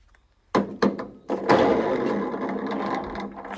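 Loose locking nut being tightened in a garage: a few sharp metallic clanks as a tool seats, then a steady whirring power tool run, loud and close.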